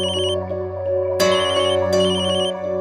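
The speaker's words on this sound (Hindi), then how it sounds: "सिंघानिया साहब का फोन।" A telephone ringtone plays loudly and alone in a home setting, a steady electronic melody that repeats in bursts for about three seconds with no talking.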